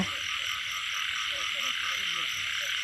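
Frogs croak in a dense, steady chorus at night in the fields and woods of rural Isan, Thailand, a continuous high trilling wall of sound with fainter individual calls beneath.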